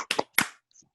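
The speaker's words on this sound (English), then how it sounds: "we can all give a round of applause to start the evening" A few scattered hand claps from participants unmuted on a Zoom video call, three quick separate claps close to the mic followed by faint, thin trailing taps.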